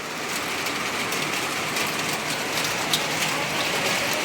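Steady, loud rain falls in a continuous hiss close by, with no voices over it.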